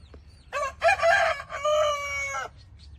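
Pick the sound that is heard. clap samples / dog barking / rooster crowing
rooster crowing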